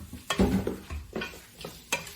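Onions being stirred in a pan as they cook down for lasagna, a few scraping strokes of a utensil against the pan over a soft sizzle, close and fairly loud, with no talking.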